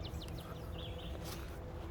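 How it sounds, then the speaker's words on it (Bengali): Several birds chirp and call from the trees at moderate distance, thin tweets scattered over a steady outdoor background hum. "তো এখন আবার গাছে গাছে পাখি ডাকতে শুরু করেছে"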